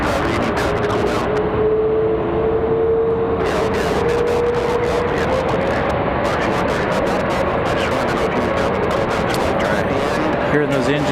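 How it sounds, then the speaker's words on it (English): Boeing 777 jet engines spool up with a loud, steady roar and a slowly rising whine. Radio chatter and talk run over it throughout. "Hearing those engines spool up from the 777"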